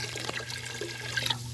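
Water drains from a saltwater aquarium in a continuous low gurgling trickle, faint and steady, under a constant hum with no talking.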